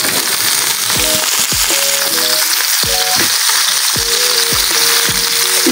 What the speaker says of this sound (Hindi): इसको 3 से 4 मिनट मैं ऐसे इसको फ्राई कर लेती हूँ